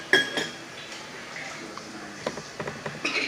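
A spoon clinks and scrapes against a bowl while slime is mixed, with a few sharp ringing taps and then a run of quicker clinks. Children's voices talk faintly around the mixing.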